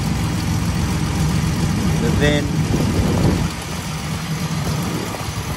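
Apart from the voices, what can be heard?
1977 Datsun 280Z engine idling, Holley carb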